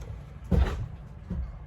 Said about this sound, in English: If y'all hear that bang in the background, it's that my chair fell that I had propped up to hold this door open.